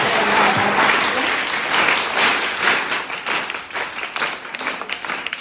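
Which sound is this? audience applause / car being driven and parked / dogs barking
audience applause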